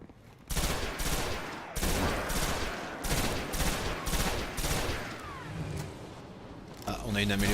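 Rifle fire in the video game Destiny, rattling off in rapid bursts with short pauses between volleys, loud and close against a busy game soundscape.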